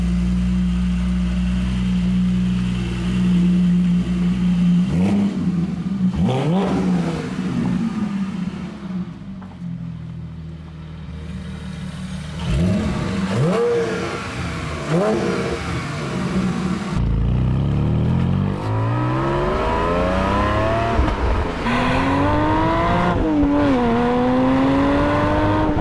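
A Porsche Spyder with a newly fitted exhaust revs and pulls through the gears while driving, its engine note climbing, dropping on shifts and surging again, loud and close with a brief lull midway.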